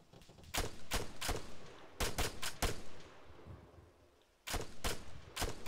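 Repeated bursts of gunfire in the Arma 3 video game during a Wasteland armed convoy mission with player-versus-player combat; sharp clustered shots come in several volleys with a short lull before the firing resumes.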